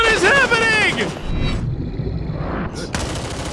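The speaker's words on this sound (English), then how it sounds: "Oh my god, the shooting is really good." Gunfire from the military shooter Gray Zone Warfare rattles close and loud beneath excited, overlapping voices, then continues as a dense steady backdrop with a brief sharp burst near the end.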